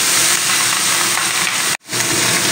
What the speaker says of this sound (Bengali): তো এইবারে আমি তেলটা গরম হয়ে গিয়েছে,